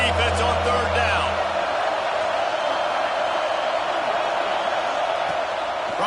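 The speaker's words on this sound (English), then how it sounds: "Decibels rising as the crowd gets behind this defense on third down" A packed football stadium crowd roars for the home defense on a third-down play, a dense, steady wall of loud cheering and noise that holds from start to finish.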